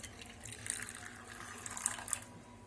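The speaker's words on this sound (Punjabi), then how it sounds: "ਉਹਦੇ ਵਿੱਚ ਆਪਾਂ ਕੋਸਾ ਪਾਣੀ ਪਾ ਲਾਂਗੇ" Lukewarm water poured from a tap or jug into a bowl to activate yeast for microwave cheese burst pizza dough, a steady soft trickle and splash close by, quiet and continuous with small brighter spatters.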